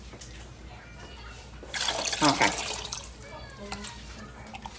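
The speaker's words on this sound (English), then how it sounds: "I'm gonna put a little bit more water in there" Tap water pours into a pot of Haitian herring and okra rice in a home kitchen, a splashing gush that rises for a second or two and then tapers off while a person speaks briefly.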